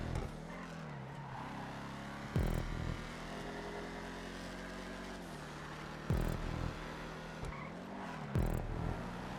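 Racing car engines roar in GTA Online. A steady engine drone runs under background music, and it is broken by several sharp, loud bursts of revving or impact. No one speaks.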